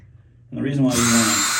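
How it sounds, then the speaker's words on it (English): A power drill bores pilot holes into wood while a new swinging screen door is being installed. The motor starts abruptly and holds a loud, steady whine close by. "you always want to drill your holes first"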